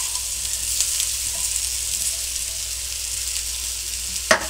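Potatoes and onions for a Telugu-style potato curry fry steadily in a pan, giving a continuous close sizzle with a brief louder clatter near the end, no voices.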